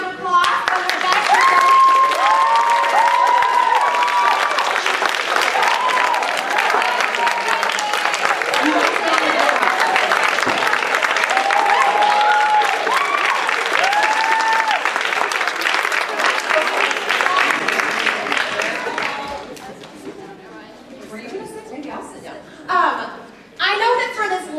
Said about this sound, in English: let's go ahead and give a big round of applause for the best